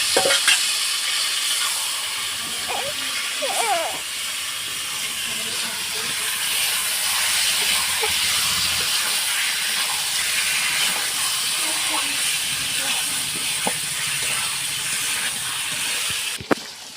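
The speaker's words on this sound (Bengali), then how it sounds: "এই ম্যারিনেট করা চিকেনটাকে এর মধ্যে দিয়ে দেব দিয়ে আমি কষিয়ে নেব সুন্দর করে" Marinated chicken fries hard in a pan, a steady loud sizzle and hiss with occasional scrapes of stirring, continuous throughout with no talk.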